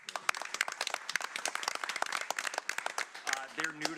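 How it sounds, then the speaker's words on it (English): People at a county budget committee meeting give a round of applause, a modest scatter of individual claps from a small group at moderate distance, with a voice starting up near the end. "I'd like to give them a round of applause"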